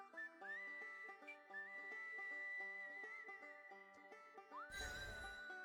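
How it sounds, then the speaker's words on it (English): Whistled melody from the Flower Feather Realm video game music theme, a clear sustained tune over a plucked, bouncing accompaniment. It ends with a rising whistle over a sudden noisy burst. "The whistling is really good."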